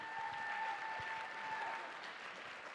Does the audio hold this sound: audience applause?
yes